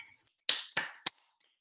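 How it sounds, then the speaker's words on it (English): Three sharp taps, spaced apart and fairly close, each with a brief bright attack and short decay, in a quiet room with no talking. "Oh, Tapping."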